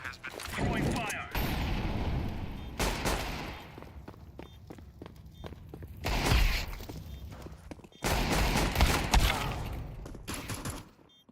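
Desert Eagle pistol fire in Counter-Strike 2: scattered heavy, sharp shots ring out amid footsteps and other match noise, some in brief clusters, with quieter gaps between.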